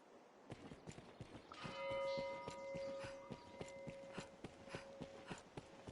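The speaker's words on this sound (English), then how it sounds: "For whom the bell tolls." A bell in the video game Dragon's Dogma rings out in a single sustained, ringing toll that slowly fades, set against quiet, regular footstep-like clopping in the background.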